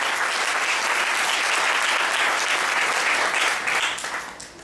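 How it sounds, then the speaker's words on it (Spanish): A church congregation claps in praise of the Lord in a dense, steady wash of applause. It holds even and full for several seconds, then fades toward the end. "Dale un aplauso al Señor."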